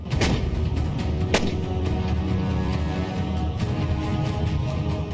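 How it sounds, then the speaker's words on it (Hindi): A deep blast from an M777 howitzer booms and rumbles, echoing with a heavy low roar that lingers throughout. "पाकिस्तान की नींद उड़ाने वाले धमाके की गूंज सुनिए।"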